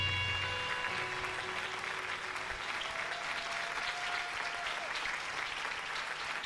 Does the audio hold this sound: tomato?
no